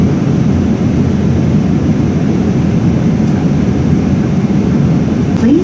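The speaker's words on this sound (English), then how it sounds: "now the plane has already started descent into Narita airport" Steady low roar of engines and airflow inside the cabin of an ANA Boeing 777-200ER descending into Tokyo Narita, a constant loud drone with no talk.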